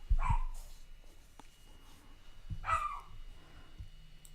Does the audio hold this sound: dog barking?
yes